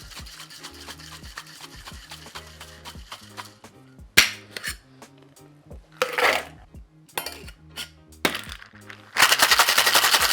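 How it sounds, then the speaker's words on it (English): A cocktail shaker gets a quick dry shake with egg white and passion fruit for a bourbon, lemon and honey syrup tiki drink: rapid rhythmic rattling clatter in choppy bursts, growing louder and denser toward the end. "Quick dry shake"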